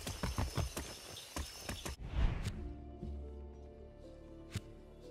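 A horse in Far Cry 6 gallops with quick, rhythmic hoofbeats for about two seconds, then stops. Quieter sustained tones and a lone knock follow.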